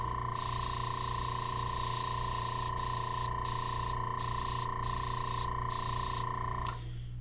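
Paint sprayer hissing out paint in a steady broadband spray, cut by short pauses near the end, close and loud over a constant mechanical hum.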